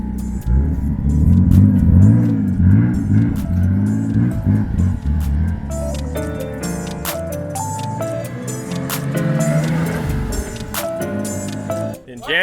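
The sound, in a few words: car coming down the street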